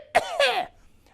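A cartoon alien egg coughs twice in quick succession, close and fairly loud, the second cough longer and more rasping, like a voiced throat-clearing hack. No other sound follows.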